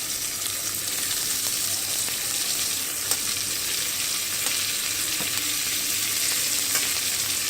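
Onions frying in oil with asafoetida give a steady, even sizzle that runs unbroken throughout, close and moderately loud, with faint stirring ticks now and then and no voices.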